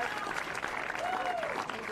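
Crowd applause at a professional pickleball match during a women's gold medal game at the PPA Desert Ridge Open, steady and sustained for the whole stretch, with a commentator talking over it.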